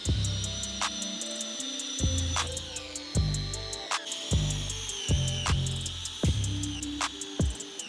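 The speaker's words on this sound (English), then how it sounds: "We're just gonna take it and put it up under our piece and start sending a couple of screws." Power drill driving screws into lumber while building a range table: repeated short drill bursts with rising pitch, about ten runs in quick succession, close and loud with no talking.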